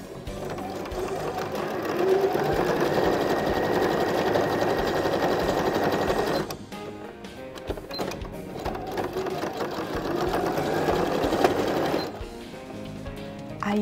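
Sewing machine stitching a rolled seam on an oven mitt, a loud, close, continuous whirring run that pauses briefly in the middle, then starts again and runs steadily until near the end.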